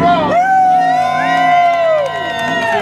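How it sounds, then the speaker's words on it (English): A crowd at a motorsports event cheers and whoops, one sustained loud shout dominating for about two seconds with scattered voices around it, a close, raucous burst rather than steady clapping. "How about a big round of applause?"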